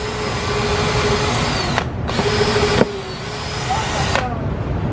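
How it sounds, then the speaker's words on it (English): A power drill bores a hole through the two-layer hull of an L53PC boat during an LED light install. The motor whines steadily and loudly, briefly stopping twice before starting again. "So you ready for me to drill?"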